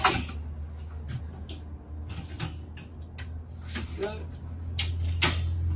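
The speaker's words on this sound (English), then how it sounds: "make sure you push it on so it just locks in so don't put extra stress on the door itself" A caravan's full-height pantry door is pushed shut and latches with a few sharp clicks and knocks while someone talks over it.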